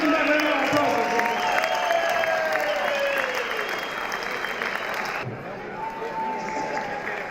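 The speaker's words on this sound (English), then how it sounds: "give him that very applause" Audience applause at a golf charity fundraising evening after an auction bid, broad sustained clapping from a large room with crowd noise, easing slightly toward the end.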